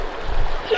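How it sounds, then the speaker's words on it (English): Flowing river water in the video game Sons of the Forest, a brief rushing and gurgling wash that swells louder toward the end, with a faint voice in the background. "I landed in some water and floating down a river."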